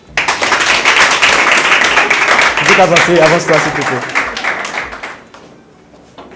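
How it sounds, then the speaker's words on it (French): An audience at a reality-TV selection event applauds loudly and steadily, dense clapping that swells and then fades away, while a presenter speaks over it. "On continue d'applaudir parce qu'elle arrive."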